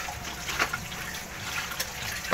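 Water pours steadily into a cooking pot for paksiw of hiwas fish, a continuous close splashing stream with a few brief louder gushes and no talking.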